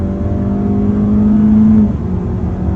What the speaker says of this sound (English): we can open her up a little bit more on the gas. Ooh, this is full throttle.